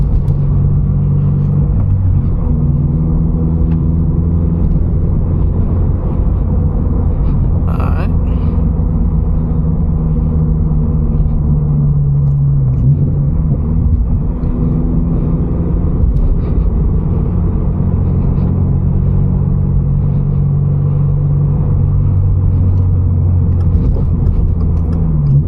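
A lowered Subaru BRZ driving over rough California roads, heard from inside as a continuous loud low engine drone and road rumble with shifting engine tones, and a short rattle partway through.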